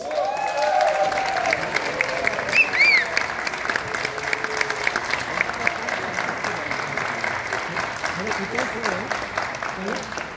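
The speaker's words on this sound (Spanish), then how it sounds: "fuerte el aplauso para nuestro coreógrafo, él es Memo Téllez" A theatre audience applauds a choreographer at a cast presentation, loud continuous clapping lasting several seconds with a few scattered whistles and cheers in the crowd.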